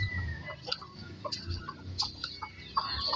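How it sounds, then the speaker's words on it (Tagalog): A farm rooster, one of the family's birds, gives short, scattered clucks over a steady low rumble of outdoor background noise, with faint ticking sounds mixed in. "Ito naman yung tandang namin na isa."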